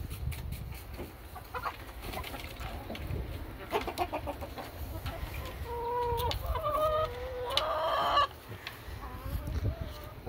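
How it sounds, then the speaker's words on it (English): Backyard hens cluck in soft, repeated bursts, with occasional higher squawks and a few crow-like calls mixed in, close by and fairly busy throughout, with no one speaking. "And here's the hens."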